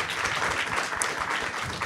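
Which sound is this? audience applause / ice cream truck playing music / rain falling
audience applause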